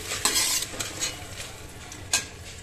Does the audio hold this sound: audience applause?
no